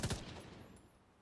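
A quick burst of video game gunfire shot at target balls, several sharp rapid cracks in the first fraction of a second that then fade into a soft ringing tail.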